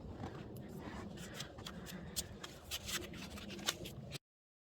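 A sticky tire patch plug strip is peeled off its backing up close, giving a steady papery crinkle and rustle with a few sharper tearing ticks along the way.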